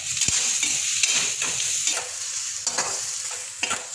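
Vegetables and spices are stirred through a hot pan for macaroni, with a steady sizzle under repeated scraping strokes of a spoon; no one speaks.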